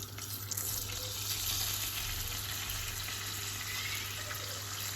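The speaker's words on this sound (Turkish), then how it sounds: "Şimdi de güzelce şurada tereyağımı böyle eritiyorum" Butter melting and sizzling in a pan on the stove, a steady soft crackle and hiss, fairly quiet and without talking.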